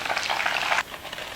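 Crispy tofu frying in a pan with hot oil, a loud close-up crackling sizzle for under a second that then drops to a quiet background hiss.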